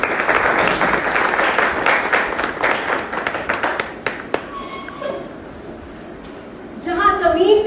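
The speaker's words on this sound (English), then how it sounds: "So with a round of applause, I would like to invite the Toastmaster of the day, Toastmaster Devanshi." An audience applauds at a business summit gathering, a dense burst of clapping for the first four seconds that thins out and fades into a quieter stretch before other sounds resume.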